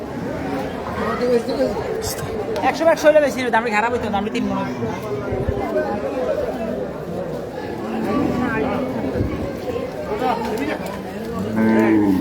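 Cattle low amid a crowded outdoor market, with many people chattering and calling nearby throughout.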